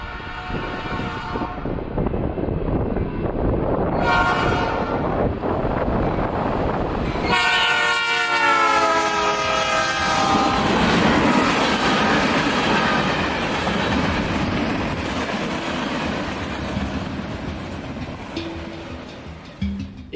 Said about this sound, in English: we had an extra manifest train coming north